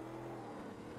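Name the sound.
Corvette C3 engine in Automobilista 2 racing video game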